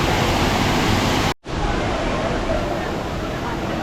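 Kumari Ella, a low waterfall at Seethawaka, roars steadily with a busy crowd of bathers around it. The rush is close and loud and cuts out briefly for a moment before it resumes.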